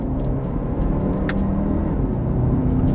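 Jaguar E-Pace engine at full throttle after a speed bump, a steady loud broadband drone that holds without a break, with a brief sharp squeak partway through.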